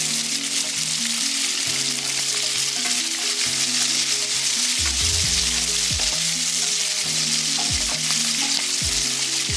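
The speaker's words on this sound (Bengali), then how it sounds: "পেঁয়াজগুলোকে হালকা এবার ফ্রাই করে নেব" Chopped onions with cumin fry in hot oil in a pan for a Bengali-style egg curry, a steady loud sizzle with intermittent scraping and stirring sounds, close up and without talk.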